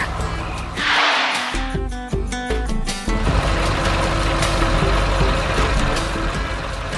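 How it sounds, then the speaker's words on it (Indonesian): Green and blue trucks haul heavy loads across a 3D-animated construction site, a loud continuous engine rumble with a steady tonal whine and a brief burst of rhythmic mechanical clatter early on. "Truk hijau dan biru itu datang membawa beban berat."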